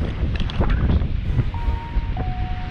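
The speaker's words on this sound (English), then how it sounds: "It is very windy." Strong wind buffets the microphone at Pompano Beach, Florida, a steady low roar with gusty rumble and possible surf beneath, continuous throughout with no clear talk.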